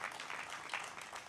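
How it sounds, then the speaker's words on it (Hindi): An audience at an all-India comedy poetry gathering applauds in a steady wash of clapping that carries through the whole moment at a modest, somewhat distant level. "आपने सभी के सम्मान में ताली बजाई।"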